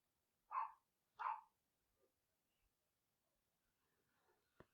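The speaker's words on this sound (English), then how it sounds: "out there barking about something" Two muffled barks from a dog outdoors, heard from inside a room, followed by quiet with faint faraway noises and a sharp tap near the end.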